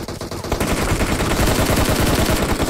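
Rapid gunfire in the mobile game PUBG Mobile, with dense, loud automatic bursts that run almost continuously and hammer steadily from start to finish.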